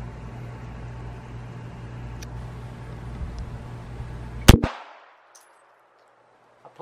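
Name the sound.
Remington RM380 pistol being fired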